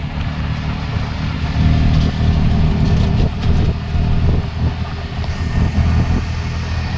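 Steady low engine and road rumble heard from inside a car driving on a Konkan highway in the rain, loud and continuous with slight swells.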